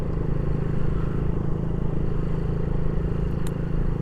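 A motorcycle rides along with a steady, loud low engine drone and wind rumble that stays even throughout, and no one speaks.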